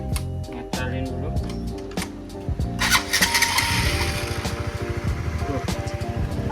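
Honda Supra GTR 150 motorcycle engine cranking and catching, then settling into a steady close idle with a rapid even pulse, under some speech.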